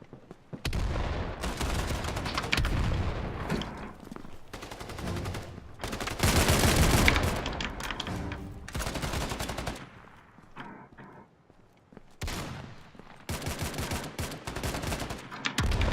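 Bursts of hip-fire gunshots from the Battalion 1944 video game, loud rapid automatic volleys separated by short pauses, repeating across the whole stretch.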